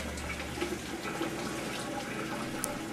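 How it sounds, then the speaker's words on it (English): Cold water runs steadily from a tap and splashes while rinsing, with a constant rushing hiss. No one speaks. "drain and rinse with cold water"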